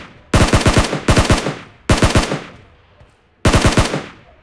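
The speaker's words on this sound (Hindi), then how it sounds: "अभी फायरिंग की आवाज़ तो इस तरह से भी आ रही है" Gunfire crackles in PUBG Mobile as four quick bursts of rapid automatic shots, each a tight volley of loud cracks with short decaying tails and a longer pause before the last burst.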